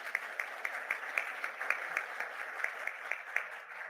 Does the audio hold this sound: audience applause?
yes